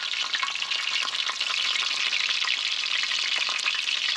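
Coconut shrimp fry in oil on a FireDisc cooker outdoors, a dense, even crackling sizzle that stays loud and constant throughout with no voices.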